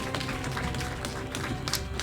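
A church congregation claps together in a short burst of applause, dense rapid hand claps close by with a faint musical tone beneath.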